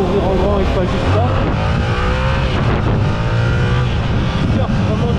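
A Yamaha R7 sport motorcycle with the CP2 twin engine, in A2-restricted form, roars at full throttle with rising, continuous engine pitch and wind noise, loud and close, while a rider talks over it.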